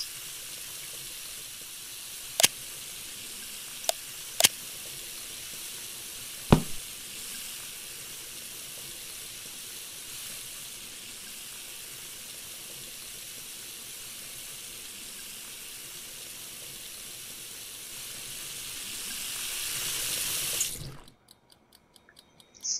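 Pot boiling on a stove in the Cooking Simulator video game, a steady hissing bubble that runs on for about twenty seconds with a few sharp clicks early on, swelling slightly before it cuts off abruptly.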